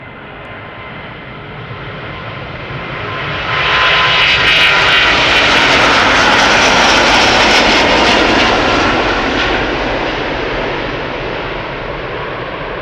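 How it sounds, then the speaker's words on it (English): An Airbus A330neo airliner taxis toward the camera at Schiphol, its engine whine and roar swelling loudly from about four seconds in, holding near, then easing slightly as it passes. "Going to Minneapolis, Minnesota. Flight 161 A330neo. Now on the move, coming this way."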